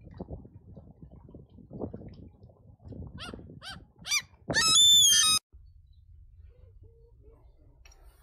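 A dog gives a few short barks and growly yelps, then a loud sustained whining howl, followed by quiet background noise.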